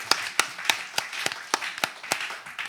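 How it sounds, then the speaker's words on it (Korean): A church congregation claps in a slow, steady rhythm, each clap sharp and distinct at a moderate distance, roughly ten claps spread evenly through the stretch. "우리 크게 박수 한번 하겠습니다"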